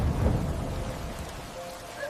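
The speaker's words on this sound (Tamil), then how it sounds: "ஒரு நாள் காட்டில் பெரிய மழை பெய்தது." Heavy rain pours down in a forest while thunder rolls low beneath it, a continuous drenching wash with a deep rumble swelling at the start and easing off.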